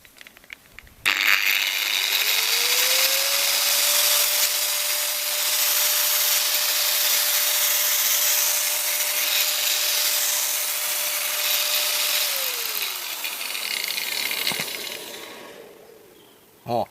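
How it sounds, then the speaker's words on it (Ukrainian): An angle grinder powered through a 12-to-220-volt inverter spins up, whines at a steady high pitch for several seconds with harsh broadband noise, then winds down and stops. "Ось вилочка від болгарки. Вмикаємо."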